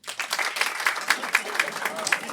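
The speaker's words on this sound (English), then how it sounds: "Let's hear it from applause." Studio audience claps and cheers as a show-of-hands style vote on a comedy podcast, a brief, moderately quiet burst of scattered claps with a few voices mixed in.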